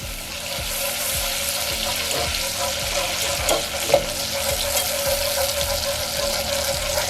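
Caramelized sugar and butter bubble in a pan as a steady, close sizzle while a utensil stirs it in repeated soft scrapes and taps.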